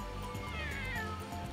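Cartoon kittens meow in a soft, high-pitched cry over a busy animated soundtrack with low background music, quiet and brief.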